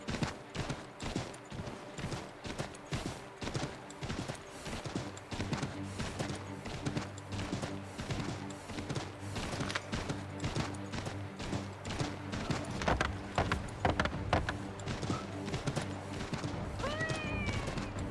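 In the Assassin's Creed 3 video game, a horse's hooves clip-clop in a steady rapid series with irregular clattering beats over background game music, with brief cat-like cries near the end.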